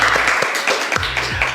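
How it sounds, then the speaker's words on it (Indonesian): An audience applauds a guest speaker at a student organisation event, a loud, dense patter of clapping filling the whole short moment with a few sharper hand strikes near the end. "Tepuk tangannya dong teman-teman."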